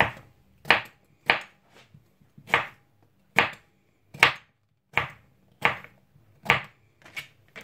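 A knife chopping swede into small pieces on a chopping board, about ten crisp, evenly spaced cuts close up, each a sharp thud with a short tail, alone with no talk.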